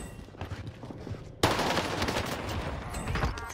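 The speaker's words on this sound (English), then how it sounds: "Oh, I'm getting shot at." Gunfire rattles on Rebirth Island in Call of Duty Warzone: scattered shots give way to a sudden loud, sustained burst of rapid automatic fire close by.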